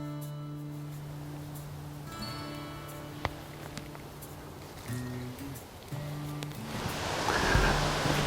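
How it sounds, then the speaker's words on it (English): Soft rushing water of a small creek swells louder toward the end, with a few faint tonal sounds and light rustling around it. "we can hear water"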